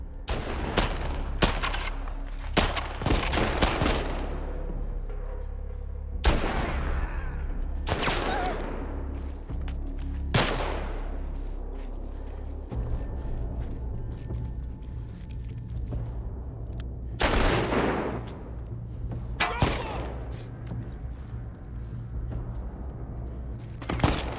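Repeated bursts of gunfire from The Last of Us Part II, with sharp shots and rapid volleys over a steady low rumble, loud and close across the scene with brief pauses between exchanges.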